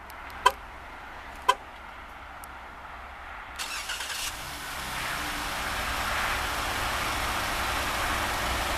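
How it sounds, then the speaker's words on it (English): A 2014 Jeep Cherokee Limited with the Pentastar V6 starts by remote: two sharp beeps, a brief cranking whir, then the engine catches and settles into a smooth, steady idle nearby. "Beautiful smooth startup from that optional Pentastar V6"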